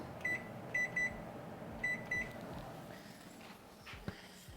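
An oven timer gives two pairs of short, high electronic beeps close by in a quiet kitchen, followed by soft handling sounds.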